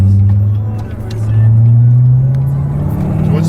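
A Corvette C7 Z06 with the Z07 pack and 659 hp sends a deep, steady exhaust drone through the cabin that swells slightly as it goes. The rumble is loud and close and continuous.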